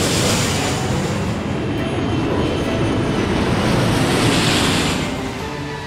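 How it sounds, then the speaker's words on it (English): A cartoon airplane comes in to land on a runway, giving a steady, loud engine roar and whoosh with the wind rushing past and no break for the full length. "Camilla, you are cleared for landing for real this time."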